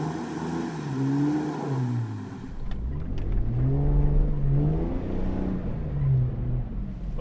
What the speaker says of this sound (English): A lot of wheel spin in action.